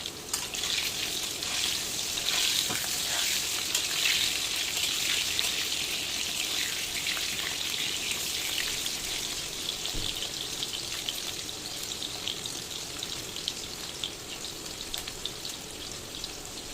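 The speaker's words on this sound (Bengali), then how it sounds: "আলুগুলো ভেজে নেই ভালো করে।" Steady, loud sizzling of potatoes frying in hot oil, continuous and close, with no talking.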